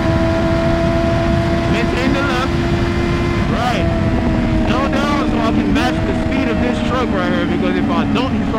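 A Yamaha R6 motorcycle riding on the road, its engine a steady, loud drone with whining harmonics that rise and dip as speed changes, under constant wind rush.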